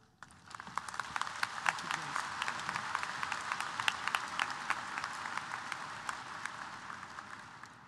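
Sustained applause from a large audience at a university new student convocation, with dense steady clapping that swells in and holds at an even level throughout.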